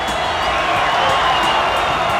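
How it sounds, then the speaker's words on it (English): A huge outdoor crowd of 200,000 at the California Jam cheers and applauds in a dense, continuous roar, loud and sustained throughout with no pauses. "Give yourself a round of applause."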